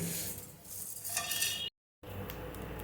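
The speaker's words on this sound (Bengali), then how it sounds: "এটাকে আমি শুকনো খোলায় ভেজে নেব" Black pepper, coriander seeds, cumin and a small piece of mace are stirred in a dry hot pan, making a faint, close scraping and light crackle, with a short silent break midway.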